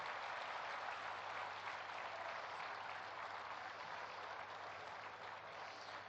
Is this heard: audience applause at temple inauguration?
yes